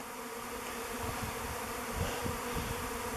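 A swarm of bees buzzes continuously and densely around a log hive outdoors, a steady droning hum with no pauses and no voices.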